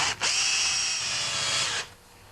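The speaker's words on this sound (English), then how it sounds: "I'm going to clean it with my drill and the wire brush at the end" A power drill whirs with a wire brush scrubbing a Honda CT70 mini bike carburetor, one steady high whine for under two seconds before it winds down and stops.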